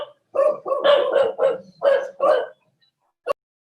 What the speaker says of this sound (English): I have two wonderful dogs here, and they decide to bark at everything.